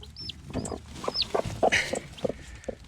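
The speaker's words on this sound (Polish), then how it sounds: "Chodź pan kurczak." A chicken clucks in short, close bursts, with a few high peeping chirps mixed in, over some faint background rustling.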